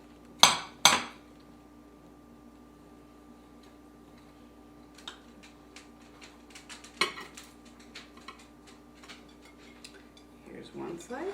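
A knife cutting a cooled cranberry cake in a home kitchen: two sharp clinks of utensil against the dish at the start, then quiet scattered ticks and scrapes as slices are cut, with a soft clatter near the end.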